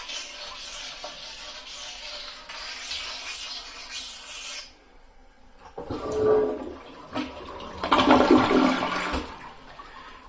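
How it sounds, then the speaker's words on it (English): A toilet flushes after the bowl has been cleaned: a soft scrubbing rasp first, then a brief hush before the water rushes loudly and gurgles close by for several seconds. "And you flush and you're done"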